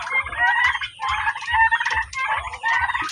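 Turkeys in a pen gobble in three loud, rapid rattling bursts, each about a second long with short pauses between, close by and with no one talking.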